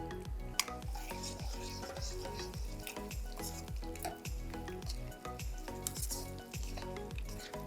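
Garlic and dried chillies fry in a pan with steady, loud sizzling, broken by repeated scrapes and clinks of a utensil stirring against the metal throughout, with no talking.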